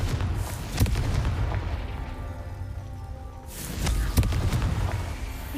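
Confringo fire-spell blasts in Hogwarts Legacy, heavy booming explosions with sharp cracks at the start and again near the end, rumbling debris and crackle filling the gaps, no speech.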